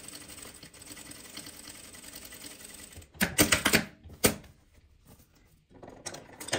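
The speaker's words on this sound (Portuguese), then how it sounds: "Mas eu vou te mostrar tudo na máquina. Aqui eu vou costurar." Sewing machine stitching fabric scraps, with a quiet steady background hum broken by two short bursts of rapid, loud mechanical stitching, then further brief runs.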